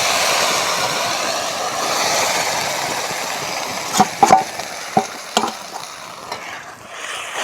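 Bathua kadhi being stirred in a wok after flour batter and spice paste are added, a soft continuous bubbling sizzle with several sharp spoon scrapes and knocks against the pan near the end.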